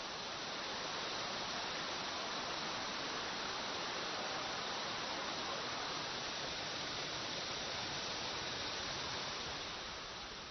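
Jiuzhaigou's broad waterfall in winter, the widest in China, gives a constant dense roar of rushing water, steady and unbroken throughout with no voices over it.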